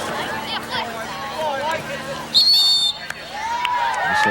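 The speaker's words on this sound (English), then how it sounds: "Whistle blows." A referee's whistle gives one sharp, high blast during a 2005 girls high school soccer match between Gloucester Catholic and Eastern. A murmuring crowd and voices carry on around it.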